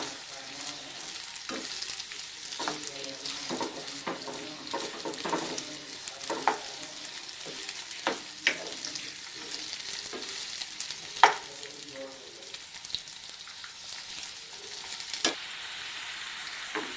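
Cauliflower pieces shallow-fry in oil in a kadai, a steady close sizzle throughout with scattered sharp clicks and scrapes as the pieces are stirred and turned.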